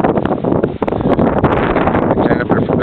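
Strong wind blows steadily across an open loch on a rough-water day, buffeting the microphone with loud, continuous rushing noise throughout and no talking.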